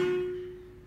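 A single mridangam stroke with a ringing tone: one clear pitched ring that sustains and slowly decays over about a second, with no boom, played alone and at close range.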